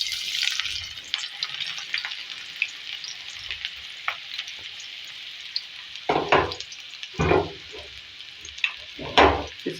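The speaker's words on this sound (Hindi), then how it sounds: "इसके अंदर हम 3 मीडियम साइज की ऑनियन और ग्रीन चिल्ली कटी हुई ऐड करेंगे कुछ।" Chopped onions and green chillies go into about half a cup of hot oil, starting with a soft sizzle and then breaking into several loud bursts of crackling as the pieces are stirred, close and prominent.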